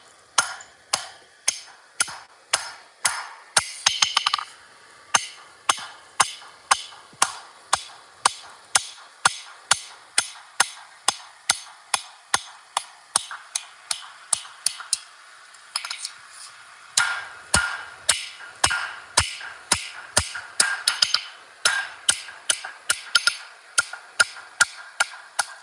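Steady metallic hammer blows ring out one after another as a taper is forged on metal, sharp and evenly paced, with a few short pauses and quicker bursts.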